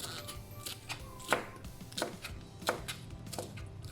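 Cabbage and other vegetables being chopped with a knife on a board, a series of crisp, moderately close cuts in an uneven rhythm over a quiet kitchen background.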